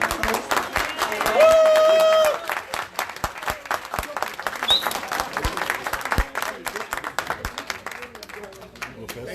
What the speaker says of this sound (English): give a huge round of applause to our panelists